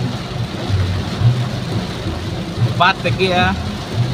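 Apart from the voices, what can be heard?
rain falling during car wash drive-through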